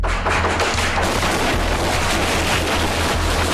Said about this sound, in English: The suspect's relentless gunfire left the officers unable to breach his door without risking being shot.